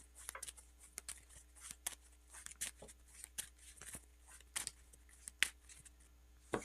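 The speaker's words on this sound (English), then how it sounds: "shuffle." Playing cards riffled and snapped during a card game, a series of quick crisp clicks and flutters of varying loudness, close and fairly quiet, with no talking.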